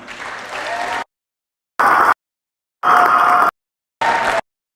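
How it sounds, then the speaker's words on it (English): Audience applause for the seniors at a home high school varsity boys game, coming in four separate loud bursts of dense clapping cut apart by dead silence. "Big round of applause for your seniors."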